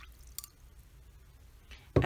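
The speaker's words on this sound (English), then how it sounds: "you could rinse your brush off, wipe it on the side" A watercolor paintbrush is rinsed in water, with a couple of faint splashes and drips followed by a louder swish of water at the end, otherwise quiet.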